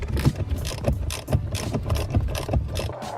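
A ratchet undoes the small 5.5mm bolts holding the airbag on a car steering wheel, giving rapid, rhythmic clicking close by with a few short pauses.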